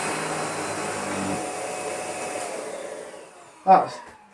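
A refurbished Shark DuoClean NV801UK-T vacuum cleaner runs on carpet with a loud, steady motor drone that winds down near the end, followed by a sharp knock.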